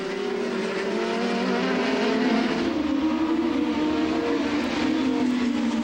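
Formula 3000 race cars at a 2002 race in Hungary, a continuous high engine whine sliding gradually in pitch as cars hold speed, loud and steady throughout with no talk.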